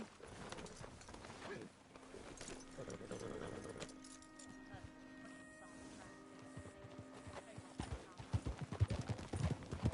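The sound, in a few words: horse hooves while riding in video game Red Dead Redemption II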